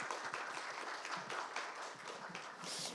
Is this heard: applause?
yes